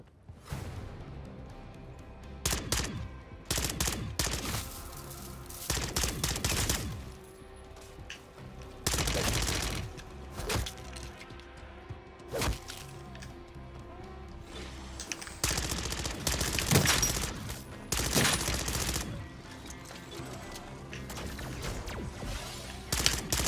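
Mangler gun in a video game firing in loud, rapid bursts, with sharp cracks repeating in clusters and only brief gaps between volleys, plus occasional mechanical clatter and thumps.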